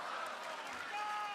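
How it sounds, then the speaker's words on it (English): A big arena crowd at the Spectrum Center applauding and cheering during a WWE SmackDown wrestling show, a steady wash of distant clapping and crowd noise with a commentator talking over it. "Massive crowd here at the Spectrum Center"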